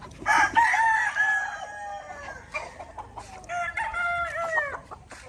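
A rooster crows twice nearby, loud and drawn out, with some softer clucking and rustle around it.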